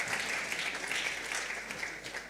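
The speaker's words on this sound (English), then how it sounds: "Let's give an applause to Fadhali Akija." An audience at an international wildlife scientific conference applauds an award recipient, a continuous, fairly close wash of many hands clapping without a break.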